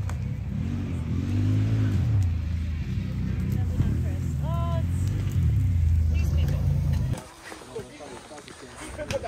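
Ford F150 trucks roaring past at high speed, engines droning loud and close before cutting off abruptly, with people talking in between.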